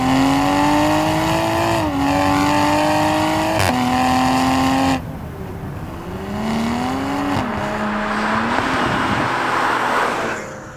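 A modified 2020 Toyota Supra with turbo upgrades pulls hard in a straight line from inside the cabin, engine note climbing steadily with quick gear changes before lifting off into a quieter whooshing coast; loud and close, with no talking.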